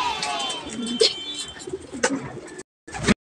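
A racing pigeon arrives at the loft during a derby race, with bird cooing and fluttering sounds over an outdoor background and a brief pause near the end.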